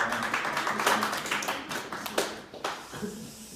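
Church youth congregation at a Sunday worship service claps briefly at moderate distance, an uneven patter of hands that trails off into quiet room sound.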